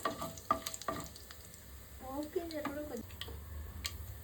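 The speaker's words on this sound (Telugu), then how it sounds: "ఇవి కొద్దిగా ఫ్రై అవ్వాలి." Cumin and mustard seeds, a spoonful, frying in oil in a pan, a light crackling sizzle with a few sharp ticks and stirring clinks, heard up close while a voice speaks over part of it.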